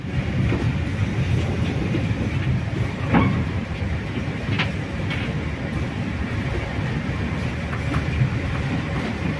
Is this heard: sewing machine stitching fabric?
no